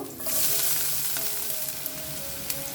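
Chopped garlic and ginger frying in smoking-hot oil on a high flame, a loud continuous crackling sizzle with a few sharper pops and no talk.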